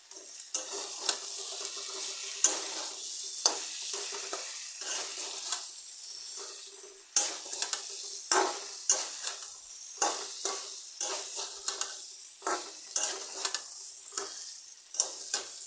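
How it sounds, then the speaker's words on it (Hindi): Okra, capsicum and potato sauté on a high flame, giving a steady hiss of sizzling oil broken by repeated scraping stirs, close and continuous without talking. "यहाँ पे मैंने फ्लेम हाई कर ली है क्योंकि ये सब्ज़ी को थोड़ा सा सौटे करनी थी।"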